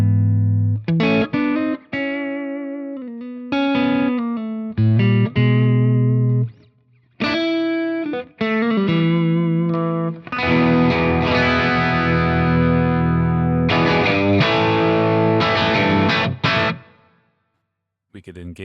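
Electric guitar through the blue overdrive side of a Browne Amplification Ethane dual drive pedal, with all knobs near noon. Loud, crunchy driven chords and riffs ring out alone in bursts with brief pauses, then sustained strumming.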